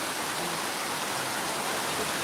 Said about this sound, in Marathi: खूप मोठ्या प्रमाणामध्ये पाऊस आता चालू आहे